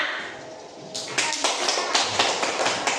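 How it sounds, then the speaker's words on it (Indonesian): A classroom of students claps for a group that has just presented, starting suddenly after a teacher's voice and continuing as uneven, fairly loud clapping with a few distinct louder claps. "Nah, sekarang kita kasih tepuk ya."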